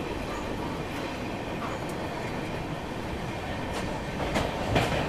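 The Rajdhani Express rumbles steadily across the Saraighat rail-cum-road bridge over the Brahmaputra river, a dense continuous roar with faint rhythmic clatter from the wheels, building slightly louder toward the end.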